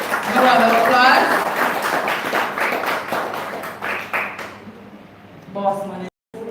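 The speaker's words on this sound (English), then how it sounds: "A round of applause." An audience at a special-needs school awards ceremony claps for a student winner, a loud burst that thins into scattered claps within a few seconds, with voices talking over it.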